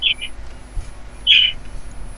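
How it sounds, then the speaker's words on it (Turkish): Two short, high bird chirps in the video game Dark Hours: Prologue ring out close by, separated by a pause, over a quiet background. "Sen kuş ötüyor maşallah"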